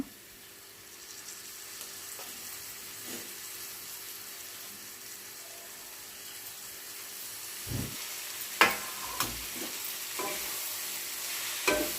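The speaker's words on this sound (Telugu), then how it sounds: "ఇదంతా ఒకసారి కలబెడదాం తరిగిపెట్టిన పెట్టిన గంగవాయిల ఆకు ఉంది కదా అది అందులో వేసుకుందాం" Gangavayila leaf curry being stirred in a pan, a steady low frying sizzle with a few sharper scrapes and clinks of the spoon toward the end, no voices.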